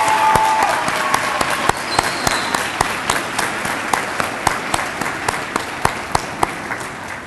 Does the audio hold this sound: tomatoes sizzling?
no